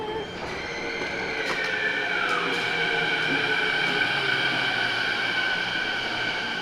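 Steady, loud rumble of a train riding to the airport, heard from inside the car with a constant hum, faint tonal whine and occasional squeal of wheels on rails, and no talking.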